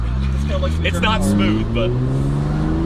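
A Honda VTEC engine with an 8400 RPM redline revs up steadily from inside the car, its rising drone loud and continuous under excited talk.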